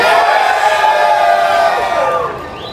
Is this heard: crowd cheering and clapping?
yes